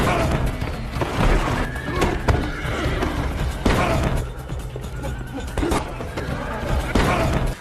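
Horses neigh and whinny inside a stable during an assassin fight scene, loud and close, with clip-clopping hooves and occasional thuds and crashes mixed into a busy, dense soundtrack.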